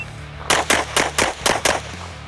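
Six quick pistol shots in rapid succession, loud and close, fired during a shooting-on-the-move drill at targets, with no voices.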